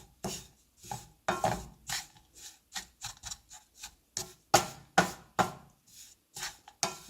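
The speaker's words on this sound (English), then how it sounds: "You need to keep sauteing throughout." Freshly roasted gram flour is sautéed and stirred in a pan, with a rhythmic series of close scraping and rubbing strokes, each a short burst with brief pauses between.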